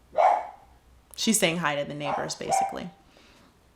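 A dog on a balcony barks a few times toward the neighbors, one bark clearly standing out at the start before a person talks over the rest.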